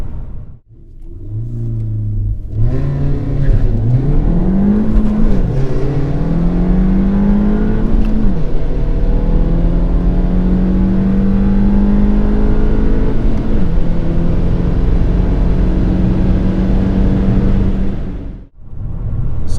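A front-wheel drive car with a stage 2 tune on coldish semi-slicks launches hard off the line at Sydney Dragway, its engine loud and close, climbing through revs and shifting gears in a long sustained pull with no talking.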